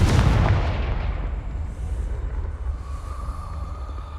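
Depulso and Confringo spells cast in Hogwarts Legacy, a heavy booming blast up front that decays into a long rumbling roar with low ambient hum.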